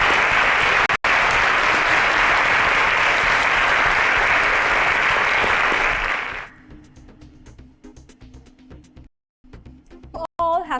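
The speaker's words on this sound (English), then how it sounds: "A round of applause for him, please." A loud burst of audience applause for a quiz contestant who just qualified for the semifinals, dense clapping for about six seconds before dying away into sparse claps and scattered voices.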